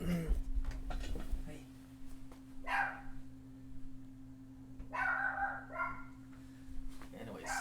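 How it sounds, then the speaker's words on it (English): Dogs indoors bark in several separate loud bursts with quiet gaps between them, over a steady low electrical hum, with a voice faintly present. "my dogs are going nuts now"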